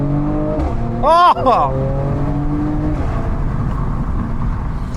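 A Mercedes C43 AMG accelerates loudly from close range, its engine rising in a strong roar. Someone gives a short excited exclamation partway through.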